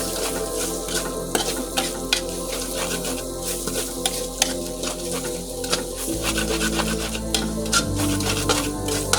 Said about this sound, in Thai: ลงน้ำตาลครับ น้ำตาลใส่แดง คั่วให้น้ำตาลละลายครับ